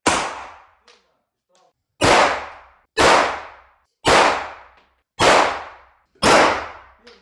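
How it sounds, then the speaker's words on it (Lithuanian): Gunshots at a shooting range, fired toward targets: six sharp, loud reports, one alone at the start and then five in a fairly even rhythm about a second apart, each decaying quickly. "Paleidžiam ir saugus šūvis į taikinių pusę."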